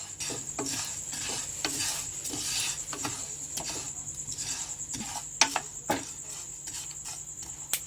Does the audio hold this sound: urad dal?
yes